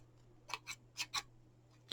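Scissors drawn along a paper flower to curl it make four quick, faint scraping strokes in close succession over a low hum, and no one speaks.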